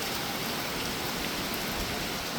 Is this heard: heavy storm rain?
yes